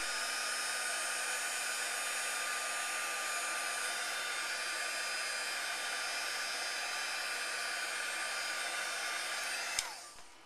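A hot-air heat tool reheats embossing on a holiday money card holder craft, blowing a steady, loud, close whirring roar for about ten seconds before it is switched off and winds down at the end, with no voices.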